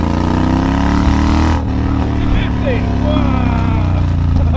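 Triumph Bobber motorcycle pulling hard in second gear from about 30 to 50 mph, a loud steady engine drone close up with wind rush, and a rider briefly exclaiming over it.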